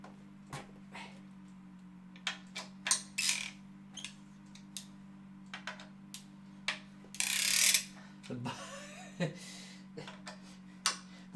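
Creaking bolt on a bicycle on an indoor trainer, needing lubricant: irregular sharp ticks and creaks over a steady low trainer hum, with a brief louder rustle, fairly faint.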